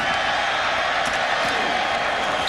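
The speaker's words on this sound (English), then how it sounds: "Crowd gave them a mock cheer as they did handle the kickoff" A stadium crowd at a 2004 West Virginia vs. UConn college football game gives a sustained, broad mock cheer, a dense roar of many distant voices with no clear breaks.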